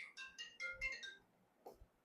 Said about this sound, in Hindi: एक सेकंड, वाइफ का फोन।